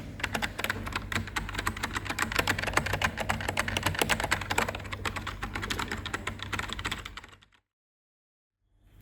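Fast, steady typing on a Bluetooth keyboard, dense close clicking of keys that continues for about seven seconds and then stops, leaving silence.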